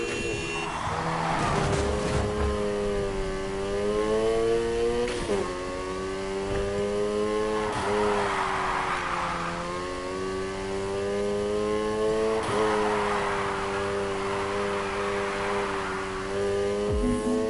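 A car drifting through corners with its engine revving hard, the tone climbing and falling in repeated sweeps while tyres hiss and slide, loud and steady throughout.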